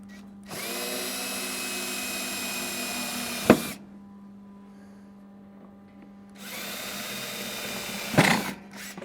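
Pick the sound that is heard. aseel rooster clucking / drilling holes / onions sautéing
drilling holes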